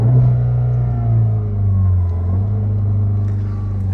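A cheap running car with a 1.4 turbo engine revving and holding steady against its rev limiter, a loud, droning engine note with slight pulsing swells throughout.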